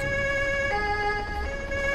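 A steady vehicle siren wails in the Arma 3 video game, holding a continuous tone at moderate distance with no voices over it.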